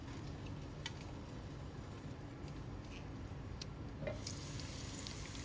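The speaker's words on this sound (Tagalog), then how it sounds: "Tumalsik ang mantika." Hot oil crackles and spits steadily while pork fries with bagoong alamang (shrimp paste) in a pan, a dense, even sizzle with a few sharper pops standing out.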